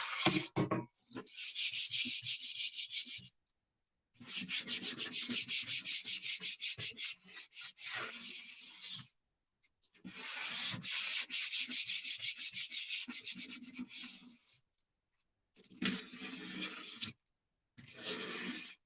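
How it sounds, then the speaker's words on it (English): Hand sanding of a wooden piece to scuff it before painting: close, rough scratchy strokes in four separate bursts of steady back-and-forth rubbing, with short silent gaps between them. "Give this a quick little sanding here."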